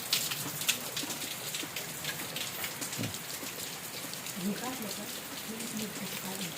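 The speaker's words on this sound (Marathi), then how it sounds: "हा लय जोरात पाऊस चालू आहे हे काय सगळं पाणीच पाणी" Heavy monsoon rain pouring down at a village house, a continuous dense hiss of drops drumming on surfaces with water running off a slab, and a faint voice briefly audible.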